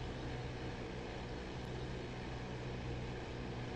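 A Focke-Wulf Fw 190 D propeller fighter in DCS World lifting off during takeoff, its engine a steady, loud, unbroken drone with no other sounds over it.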